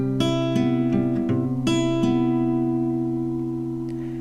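Acoustic guitar plucked in an eight-note fingerpicked pattern over seventh chords, clean sustained strings ringing close and alone, with chord changes every couple of seconds and the last chord left to fade.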